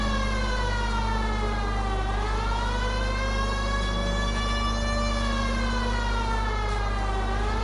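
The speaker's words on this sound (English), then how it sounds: "You hear a police siren" A loud, continuous wailing siren rising and falling in pitch, steady and close, over a constant low engine drone, with no talking; a police car siren in the video game L.A. Noire.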